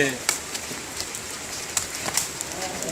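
Rain falling during an outdoor takraw game in the rain, a steady hiss of rainfall with a few sharp drop or impact ticks scattered through it.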